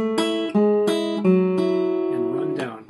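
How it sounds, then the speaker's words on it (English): Acoustic guitar plays a short lick with several plucked notes and hammer-ons sliding into ringing tones, clear and close with no talking. "we get into this neat little hammer-on lick"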